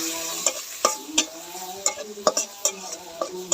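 Shrimp sizzle and crackle in a pan with turmeric while a utensil scrapes and stirs in quick irregular strokes, close up.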